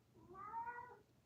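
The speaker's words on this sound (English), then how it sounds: "Why you meowing at my door?" A cat meows once at a door indoors, a single drawn-out, rising-then-falling cry of moderate loudness, heard alone with no talk.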